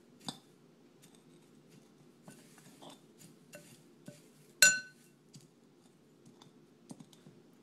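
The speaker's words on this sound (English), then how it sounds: "I'm just pushing them against the bowl with the back of my measuring spoon" Dry chamomile heads are pressed and crushed against a hard bowl with the back of a measuring spoon, giving sparse light clicks and taps with one louder clink, close and quiet.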